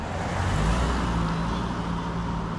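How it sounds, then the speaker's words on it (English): A road car passing on a street while an Arrma Big Rock 6S RC truck sits nearby, heard as a broad steady rumble and tire roar that stays close and loud throughout. "gotta wait for this car to pass."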